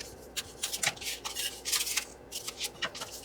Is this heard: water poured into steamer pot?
no